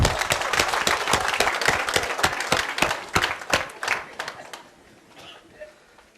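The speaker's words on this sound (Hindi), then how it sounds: "बजाओ ताली" Audience applause, dense and loud, holding steady for about four seconds before thinning into a few scattered claps and fading out.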